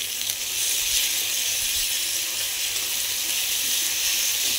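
Ginger garlic paste frying in hot oil: a steady, bright hissing sizzle that stays loud and close throughout, with no talk.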